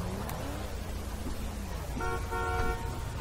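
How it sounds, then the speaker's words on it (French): Car horn honking in the video game GTA 5, a sustained blaring horn tone that starts partway through over steady road traffic and engine noise. "Et tu me klaxonnes?"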